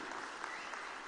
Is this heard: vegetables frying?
no